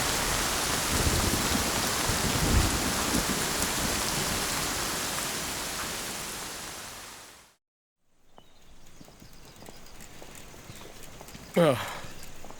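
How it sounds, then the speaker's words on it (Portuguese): Steady heavy rain pours down as a dense, loud hiss that fades toward the middle, drops to near silence, then returns as lighter rainfall with a brief sharp knock near the end; no thunder stands out. "Pode ser que a chuva pare. Tempestades não costumam durar muito."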